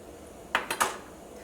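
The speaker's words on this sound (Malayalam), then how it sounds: "ഒരു പാൻ വെച്ചിട്ട് ചൂടാക്കാം" A pan set down on a kitchen stove to heat for shrimp rice, producing three quick, close metallic clanks in succession against a quiet background, with no speech.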